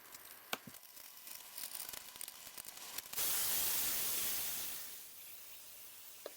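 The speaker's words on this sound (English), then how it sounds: "So just giving that another quick zap with the heat gun." Heat gun blowing hot air across epoxy resin for a texture effect, a steady loud rushing hiss that starts abruptly midway after faint clicks and taps, then gradually eases off toward the end.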